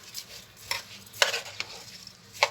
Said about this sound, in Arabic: نقلب كده.